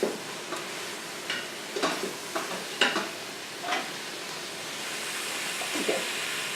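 Mushrooms sautéing in oil in a pan, heard as a steady soft sizzle with intermittent scraping stirs and brief louder hisses, close and moderately quiet.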